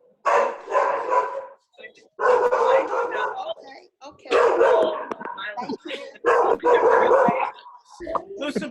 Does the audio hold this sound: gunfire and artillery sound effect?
no